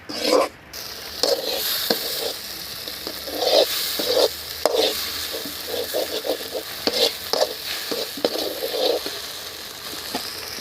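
Goat head curry stirred in a hot pan, close scraping and stirring strokes in an uneven rhythm over a constant sizzle, loud and alone.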